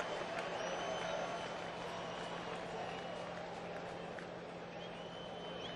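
A baseball stadium crowd rises in a steady, roaring swell of cheers and scattered clapping throughout, with Ichiro at bat on a full count.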